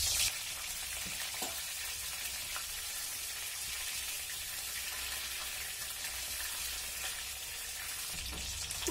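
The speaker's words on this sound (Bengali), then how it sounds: "মাছ আর আলু ভাজা তেলের মধ্যেই এবার ফুলকপিগুলোকে ভেজে নেব।" Cauliflower florets frying in oil already used for fish and potatoes, a steady close sizzle and crackle running unbroken throughout with occasional stirring clicks, no voices.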